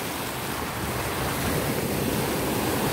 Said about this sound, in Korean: 파도 봐, 여기.